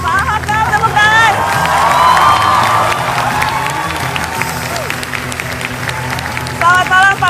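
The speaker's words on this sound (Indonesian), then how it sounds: "Pak Hakam, tepuk tangan." A studio audience at a TV talk show welcomes the Jakarta governor with loud, sustained clapping, cheers and a few whoops, while crowd chatter and voices run through it.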